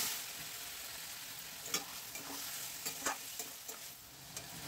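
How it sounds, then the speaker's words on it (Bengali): Boiled kabuli chickpeas are stirred and sautéed with chicken in a pan, a quiet close sizzle broken by several soft scraping knocks of the spoon at irregular intervals. "চানাটা দিয়ে আমি এই চিকেনের সঙ্গে এটাকে একটু কষিয়ে নেব"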